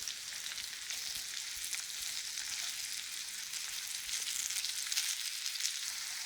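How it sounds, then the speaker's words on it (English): Apple halves fry cut side down in a hot pan, giving a steady, dense sizzle that holds evenly throughout at close range with no voices. "Just make sure you nestle the apples in cut side down so they get an opportunity to get nicely brown."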